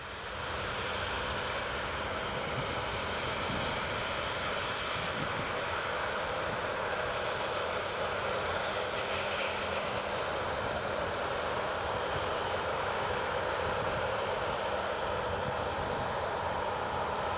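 Regional jets, a CityJet CRJ and an Aer Lingus Regional aircraft, run their engines at Newcastle Airport, a steady broadband roar heard from a distance and holding level throughout without speech.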